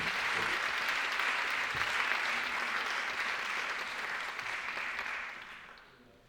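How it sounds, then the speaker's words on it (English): A livestreamed challenge event audience applauds for the judges with broad, steady clapping that holds strongly and then fades away toward the end. "Give them a big round of applause."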